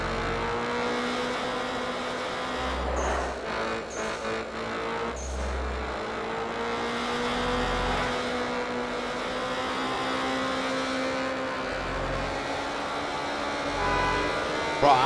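A car engine drones steadily in the Night Runners racing video game, its tone shifting in pitch as the revs change, with a few low thumps along the way.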